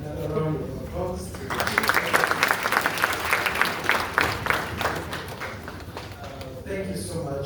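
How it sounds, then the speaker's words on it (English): Audience applause at a judiciary enrolment ceremony, a round of rapid crowd clapping that swells in after a voice speaks and fades as speech resumes, with talk at both ends. "Another round of applause."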